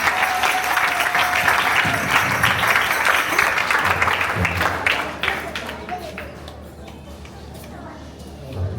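Church congregation applauds for a sister stepping forward at a children's gathering, sustained dense clapping with voices mixed in, fading after several seconds into quieter room noise.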